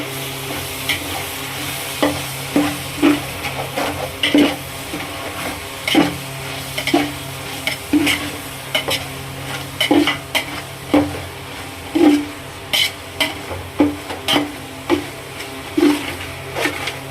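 Chicken biryani is stirred in a pot with a steady series of scraping, clinking strokes about every second, close and fairly loud over a soft sizzle, with no voices.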